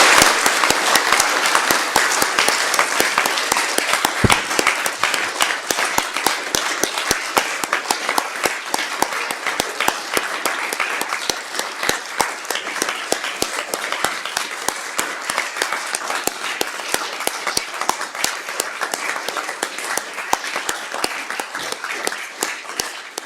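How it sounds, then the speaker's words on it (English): Dense, sustained applause from a crowd at Lord Sumption's valedictory ceremony, many hands clapping steadily at a loud, even level for over twenty seconds with no voices on top. "Can we give a round of applause?"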